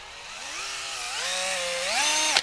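A handheld power drill runs continuously for a couple of seconds, its high whine rising in pitch in steps as the motor speeds up before cutting off abruptly, close and loud with no talking.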